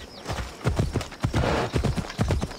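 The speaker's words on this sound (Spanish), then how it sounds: "Tengo un caballo negro." A black horse's hooves clip-clop in a steady walking rhythm in Assassin's Creed Odyssey, close and fairly loud, with no talking.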